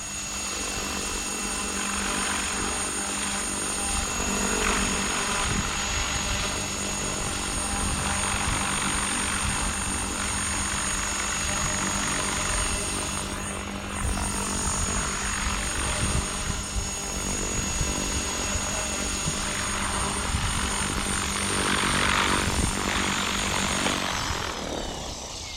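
Blade Fusion 550 RC helicopter in flight, a loud, sustained whirring rotor and motor drone holding steady for the whole stretch with no speech.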